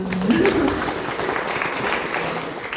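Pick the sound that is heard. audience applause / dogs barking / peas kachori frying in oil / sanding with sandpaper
audience applause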